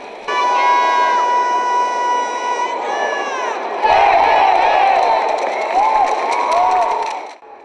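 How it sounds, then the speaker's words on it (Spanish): Spectators at the 2013 taekwondo world championship in Puebla cheer loudly, with shouts and whistles over a steady roar of crowd noise that swells midway and then cuts off at the end. "la delegación española recibió entre gritos y aplausos a su representante, José Antonio Rosillo"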